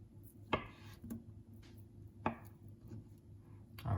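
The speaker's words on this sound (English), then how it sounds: "now I'm gonna cut up this avocado into thin little slices" A knife cuts an avocado into thin slices for sushi on a cutting board, with a few soft, separated taps against the board over a low, quiet background hum.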